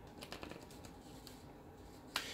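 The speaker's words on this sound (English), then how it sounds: "Let's get a good couple of shuffles, and then we'll proceed." Tarot cards are shuffled close up, soft quick riffling and tapping in a light irregular patter with a sharper snap near the end, no speech.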